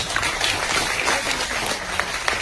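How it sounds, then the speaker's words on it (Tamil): Brief applause from the audience at a Tamil film audio launch event, a short burst of scattered clapping with a busy, noisy hall behind it. "ஒரு கைத்தட்டல் கொடுக்கலாமே."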